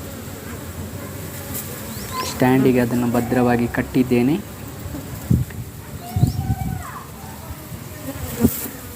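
Honey bees buzz around a hive box, a thin droning hum that comes and goes, with someone talking close by over it.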